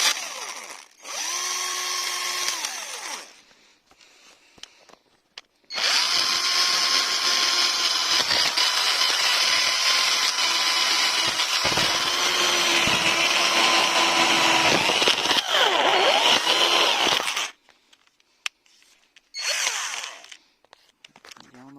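Metabo PowerMaxx 12 cordless drill (10.8V) whirring in loud bursts: a short run, a pause, a long sustained spin with pitch shifts, then a brief final burst, close and alone.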